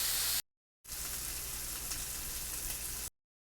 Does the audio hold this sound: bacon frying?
yes